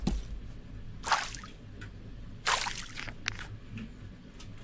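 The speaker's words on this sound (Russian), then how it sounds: "Вот вода." Footsteps splashing through shallow water in the winter survival game Winter Survival Simulator, two or three wet sloshing bursts over a low ambient bed, no talk.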